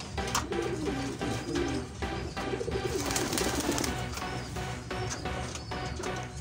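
Pigeon squab cooing softly and repeatedly while its beak and throat are being cleaned of a canker infection, a steady, close, low murmuring with light handling noise throughout.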